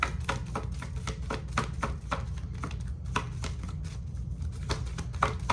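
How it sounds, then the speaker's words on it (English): Oracle cards are being shuffled and pulled by hand, giving a steady run of crisp, close card flicks and taps in an irregular rhythm over a low background hum, with no talking. "pulling some oracle cards for you as well"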